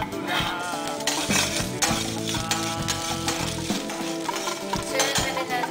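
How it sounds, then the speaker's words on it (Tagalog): Garlic sizzles and crackles steadily in hot cooking oil in a pan, a loud, continuous frying hiss with occasional stirring clinks, heard up close with no talking. "Pag mainit na yung mantika, pwede na ilagay ang bawang."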